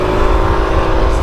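A Yamaha T-Max scooter passes on an open road, its engine a steady, fairly loud drone throughout the short moment.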